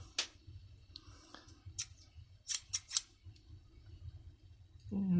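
Unbranded vintage scissors from a car boot sale snapping open and shut in a few sharp, close clicks and snips, with small handling noises between them.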